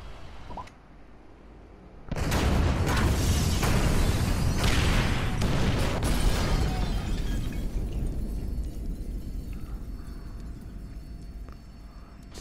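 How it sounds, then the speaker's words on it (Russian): A loud C4 explosion in the video game GTA 5 bursts in after a quiet start, followed by a long roaring, crackling rumble that slowly fades. "Используйте телефон для детонации C4."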